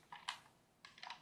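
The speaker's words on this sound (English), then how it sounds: "I find it really relaxing to hear a keyboard." A computer keyboard clicks in two short bursts of a few keystrokes each, separated by a brief pause, quiet and close with no voices.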